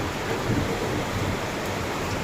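Heavy rain pouring steadily with a low rumble of thunder underneath, loud and continuous throughout.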